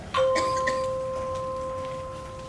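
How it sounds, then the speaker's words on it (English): A single bright bell strike with a long ringing tone fading slowly over a couple of seconds, played as a church bell stage sound effect during a school theatre production of A Christmas Carol. "Scrooge awoke with the first stroke of a nearby church bell."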